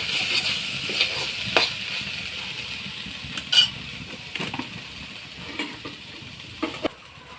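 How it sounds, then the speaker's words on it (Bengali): Turmeric and salt cook in a hot pan with fish-head curry, giving a soft steady sizzle broken by a few metal spoon clinks and scrapes as they are stirred. "হলুদ ভালো করে জাল দিয়ে নেব।"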